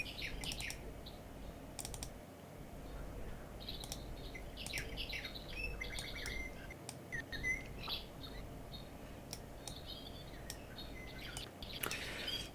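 Songbirds chirp and call intermittently through a continuous background hiss, with short bright tweets scattered throughout, fairly faint and without talk.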